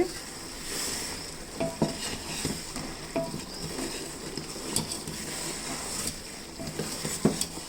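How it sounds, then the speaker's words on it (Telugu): A ladle stirs melting jaggery in a pan for making nethi arasalu, ghee sweets. There is soft scraping and swishing with occasional metallic clinks against the pan, and a faint sizzle underneath. "ఇలా చెడ్డితో తిప్పుకోవాలి. బెల్లాన్ని కరుగుద్ది."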